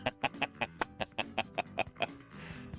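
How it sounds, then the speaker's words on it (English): A bird calls outdoors at a dinosaur dig site, giving about ten rhythmic, clucking notes at a steady pace, moderately close, with no talk over it. "Look, there's a bird, dude."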